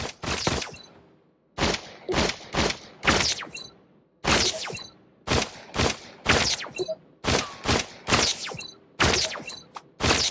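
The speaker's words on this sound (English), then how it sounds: "Now you're armed. Just squeeze the trigger to shoot." Pistol shots in the VR game Robo Recall, fired in a steady rhythm: about a dozen sharp, loud bursts, each with a short mechanical clatter, separated by brief gaps of silence.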